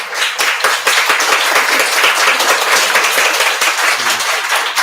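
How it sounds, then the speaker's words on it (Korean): A congregation at a Korean Sunday church service breaks into warm welcoming applause, with many hands clapping densely and loudly together for several seconds. "환영의 박수 드리겠습니다."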